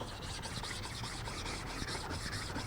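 A 300 grit stone rubbed over a sharpening stone to flatten it, a dense continuous gritty scrubbing with faint rhythmic back-and-forth pulses, close-up and steady throughout, no talking.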